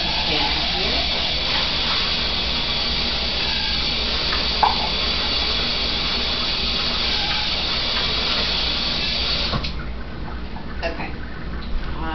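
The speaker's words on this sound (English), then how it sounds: "Wash the pan here." Running tap water pouring over a pan while it is washed, a steady bright hiss that holds for about ten seconds and then cuts off, with faint clinks in between.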